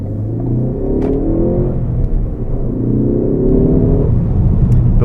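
A Ford Focus ST's engine revving and accelerating from inside the cabin, with a loud, smooth rising drone that climbs through the gears over a steady road rumble.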